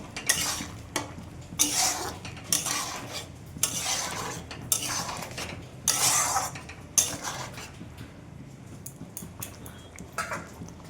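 Pointed gourd curry bubbling in a pot gets stirred, bursts of scraping and clinking of a spoon against metal every second or so over a soft simmer, no talking.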